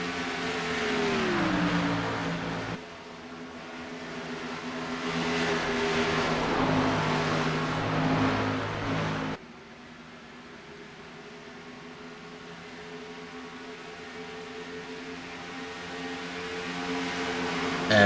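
Race cars run on the Charlotte track, engine drones rising and falling as cars pass, loud at first, then dropping sharply to a quieter, steadier hum that builds again near the end.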